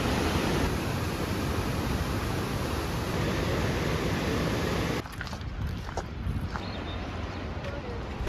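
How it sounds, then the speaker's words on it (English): Hidden Falls, a waterfall in Cascade Canyon in Grand Teton National Park, roars as a steady, loud broadband rush of falling water that fills the whole clip, softening slightly partway through, with no talk. "This is Hidden Falls."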